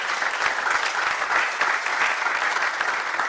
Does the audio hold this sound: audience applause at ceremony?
yes